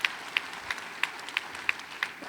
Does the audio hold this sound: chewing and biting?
no